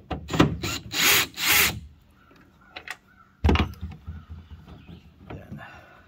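Power tool zipping out the 8 mm bolts holding a Ford F-250 tail light, with several short loud whirring bursts up front, then quieter clicks and handling noises and one more burst partway through.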